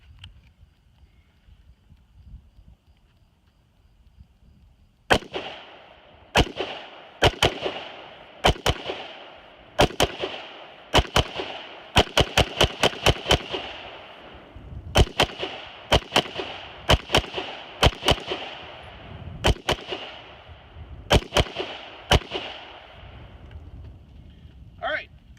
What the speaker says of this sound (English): Now we're going to do a cycle test to make sure they cycle without any malfunctions.